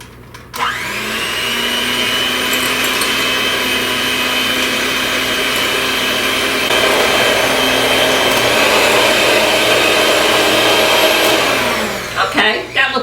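An electric mixer beats butter, sugar and an egg for pumpkin brownies, a loud steady whir running unbroken for about twelve seconds, its pitch rising slightly partway through before it stops with a few clatters.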